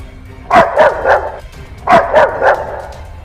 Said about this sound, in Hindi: पीछे कुत्ता पड़ा हुआ है